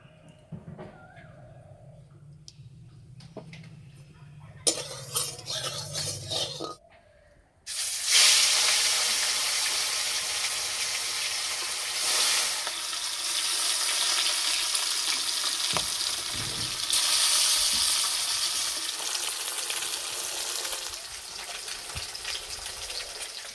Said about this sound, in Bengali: মাছ ভাজার জন্য কড়াইয়ে সর্ষে তেল দেব।